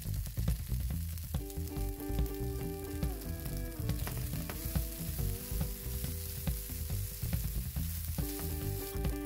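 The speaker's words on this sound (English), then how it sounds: "Add the crumbled veggie ground round to the pan." Crumbled veggie ground round sizzles steadily in a pan with chopped garlic, a close, continuous frying hiss broken by faint scrapes, with a tonal hum running underneath throughout.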